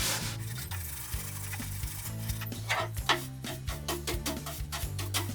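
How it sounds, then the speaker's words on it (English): Rough-grade wire wool rubs back and forth on a teak bookcase, a quiet, continuous scratchy rasp with uneven strokes and no talking. "I'll try a rougher grade wire wool just on that"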